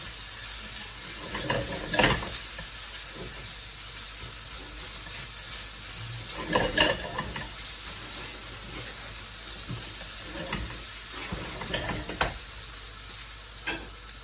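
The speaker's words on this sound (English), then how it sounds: "Keep it moving so your noodles don't stick." Fried chicken noodles stir-fried in a hot pan sizzle steadily, with sharp bursts of scraping and tossing from stirring at irregular intervals and no talk.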